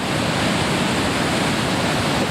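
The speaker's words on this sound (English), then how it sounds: "You can hear the power of the water." Powerful river water rushing through Tiger Leaping Gorge in northwest Yunnan, China, a loud, dense, unbroken roar of white water filling the whole clip with no voices.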